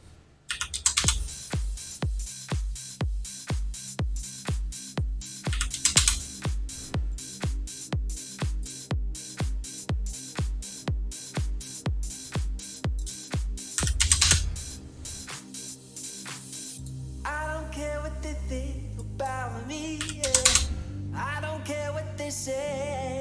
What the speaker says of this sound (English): I have to pay more attention to my typing here.